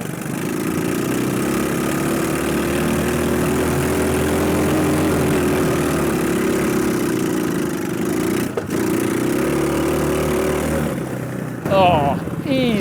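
A mini Jeep's small engine drones steadily and loudly in second gear while climbing a hill, holding an even pitch for most of the run before a brief dip and a voice at the end.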